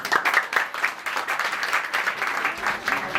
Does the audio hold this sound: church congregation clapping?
yes